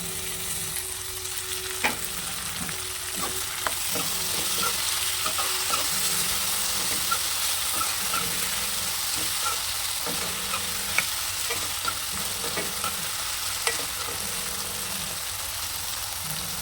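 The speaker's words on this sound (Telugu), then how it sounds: "ఇప్పుడు కట్ చేసుకున్న టొమాటో ముక్కల్ని యాడ్ చేసి" Cut tomato pieces stirred into a simmering brinjal curry with drumsticks, a constant sizzle under regular scraping and clinking of a ladle against the pan, rhythmic and close, with no talking.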